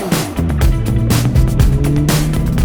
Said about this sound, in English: this screaming, stonking V6 engine supercar